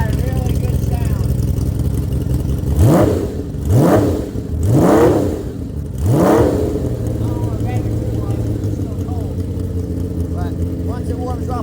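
A six-cylinder motorcycle engine revs four times in quick succession, each blip rising and falling sharply over a steady idle, loud and close.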